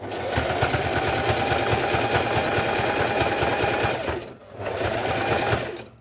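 A domestic sewing machine stitches zigzag on a fabric school pencil case, a fast, regular mechanical whirring and clatter that runs steadily, drops out briefly near the end, then resumes.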